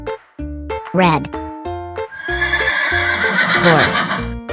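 A loud horse whinny and rhythmic clip-clop hooves come from a children's toy-style farm animal song, mixed with bright musical tones and a voice.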